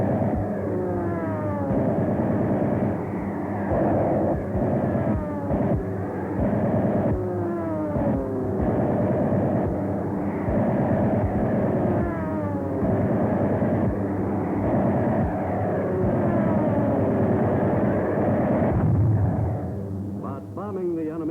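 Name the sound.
WWII bomber aircraft engines over the Aleutians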